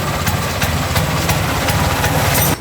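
A repaired tuk-tuk engine idles steadily with a continuous low rumble and faint regular ticking, close and loud, running alone without speech.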